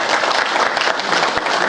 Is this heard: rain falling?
no